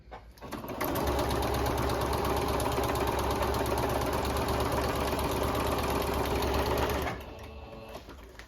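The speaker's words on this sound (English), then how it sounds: "I'll just sew a seam" A sewing machine runs a continuous steady seam on feed bag material, loud and close, with an even mechanical whir and rattle that starts after a brief lead-in and stops near the end, no talking.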